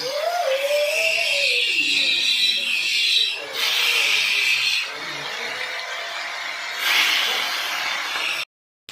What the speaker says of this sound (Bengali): এদিকে কড়াতে তেল দিয়ে দিয়েছি এবার ভেটকি মাছগুলোকে ভাজা করে নিচ্ছি